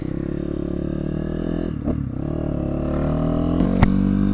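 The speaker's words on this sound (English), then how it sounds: "Alright guys, here we go on the Kayo K6-250" A Kayo K6-EFI 250 cc fuel-injected four-stroke dirt bike engine runs steadily near the microphone, with a dip in pitch midway and then a rising rev near the end, broken by a couple of sharp clicks.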